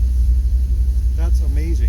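An old black truck's engine, newly fitted with modern fuel injection, runs with a steady low rumble throughout, and a voice speaks briefly over it near the end.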